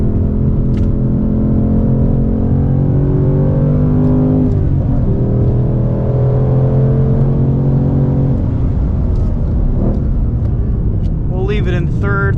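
A 2024 Ford Mustang Dark Horse V8 with a Tremec manual gearbox revs hard on a track, its loud droning engine note climbing and dropping through the rev range while someone talks over it.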